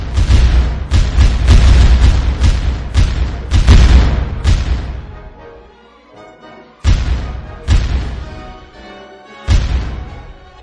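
Heavy booms from Paraguayan cannon and bursts of shore gunfire during the river Battle of Riachuelo, first a rapid cluster of loud close blasts, then a lull, then two more spaced heavy reports.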